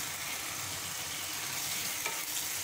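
Washed chapa dried fish added to a frying spice paste, giving a soft continuous sizzle throughout, with a faint clink near the end.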